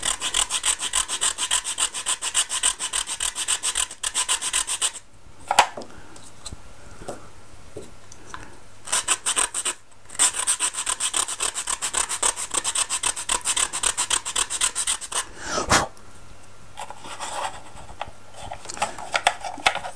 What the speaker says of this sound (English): This inner edge needs filing a slight bevel so that the two pieces mate up.